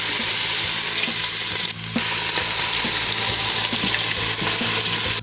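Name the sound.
short ribs searing in avocado oil in a Dutch oven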